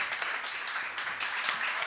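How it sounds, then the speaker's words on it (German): Small audience clapping in a Freiburg bar venue after a spoken-word performance, a steady patter of hands for about two seconds, moderately quiet and without voices. "Großen Applaus für Kira, Leute."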